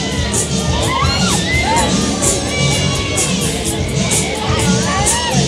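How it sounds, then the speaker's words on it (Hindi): A seated crowd at a Christmas event in Windsor shouts, whoops and cheers excitedly, with children's high voices prominent in a dense, continuous roar of babble. "लोग चिल्ला रहे हैं, बैठे हुए हैं लेकिन चिल्ला रहे, एक्साइटमेंट से मज़ा ले रहे हैं और हल्ला भी कर रहे हैं।"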